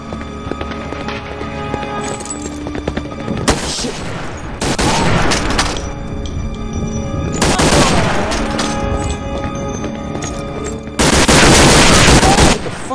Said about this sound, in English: Did he just fucking shoot me?